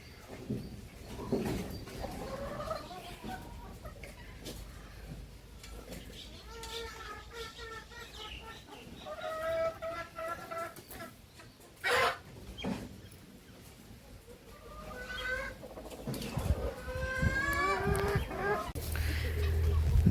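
Kadaknath and country hens cluck and call in a poultry coop, with several birds heard near and farther off, and a person talks intermittently alongside the clucking.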